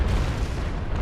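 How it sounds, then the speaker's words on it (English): Ship cannon broadside in the age-of-sail naval game Naval Action, a single deep booming blast with heavy low rumble that fills the short moment, loud and close. "give him a broadside."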